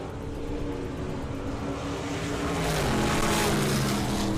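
A hot rod drag racing car with a manual gearbox at Santa Pod Raceway drones steadily and loudly, its engine pitch shifting and swelling partway through as it changes gear.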